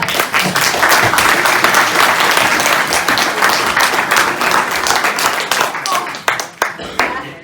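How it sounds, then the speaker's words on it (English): A theatre audience at a Wizard of Oz stage performance claps loudly and steadily, a dense burst of applause that thins toward the end. "Give a round of applause."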